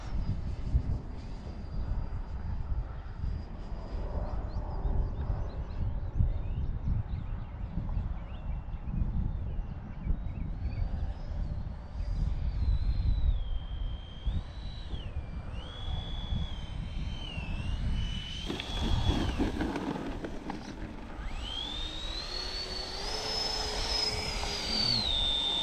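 Inside an Su-30 jet in flight with flaps down, a steady engine and airflow roar fills the cabin, with a high tone shifting in pitch and a rise in rumble near the end.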